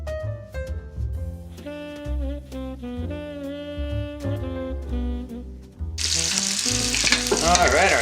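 Sausages frying in a pan for New Orleans gumbo: music plays first, then a loud, dense sizzle bursts in and continues steadily to the end.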